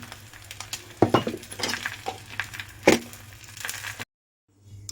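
Egg half fry cooking in a pan while salt and chili powder are added, heard as clinks of a utensil against the pan and light scraping over a low steady hum, with two sharper knocks before a sudden cut to silence.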